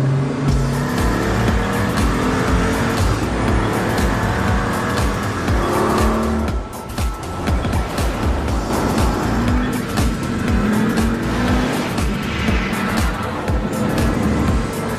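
A Pagani Huayra with active aerodynamic flaps is driven hard around a very fast race track, its engine roaring loud and continuous with tire squeal and a brief dip midway.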